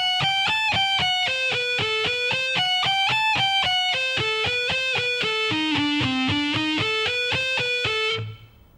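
An electric guitar plays a lick at slow tempo, a steady stream of evenly picked distorted notes that descends and climbs before stopping abruptly, alone with no talk.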